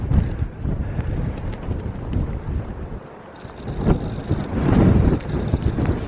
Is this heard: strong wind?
yes